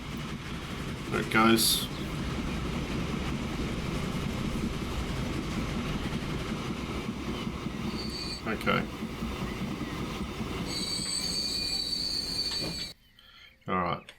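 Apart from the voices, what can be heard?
train running on rails in video game Transport Fever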